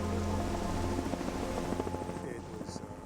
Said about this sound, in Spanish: El helicóptero batalla durante 1 hora intentando rescatarlos antes de aceptar la derrota.